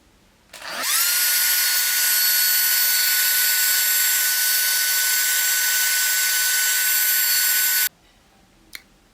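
A hot air hair styling tool switches on with a brief rising whine, then runs at a loud, steady high-pitched whir for about seven seconds before cutting off, followed by a small click.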